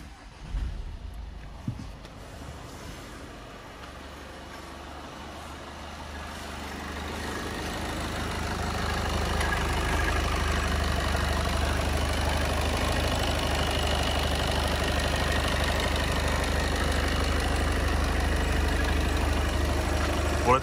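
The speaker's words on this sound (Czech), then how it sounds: "jdeme si poslechnout studený start." A few clicks and faint sounds give way to a Volkswagen Passat Alltrack 2.0 TDI diesel engine cold-starting and settling into a low, steady, rumbling idle that grows louder.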